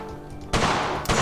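M1 Garand rifle fire in the World of Guns game, two sharp loud reports, the first after a stretch of quieter background and the second shortly after, each a broad bright blast with a trailing tail.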